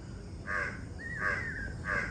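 A crow caws three times, loud and fairly close, harsh calls spaced evenly over a quiet outdoor hiss.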